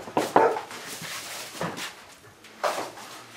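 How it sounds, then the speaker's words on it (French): A dog barks in a few short, muffled bursts spaced over several seconds at night, sounding somewhat distant, as if from inside a house, against a quiet background. "T'as entendu le chien?"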